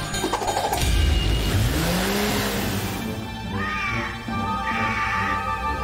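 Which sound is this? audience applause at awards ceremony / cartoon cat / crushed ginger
cartoon cat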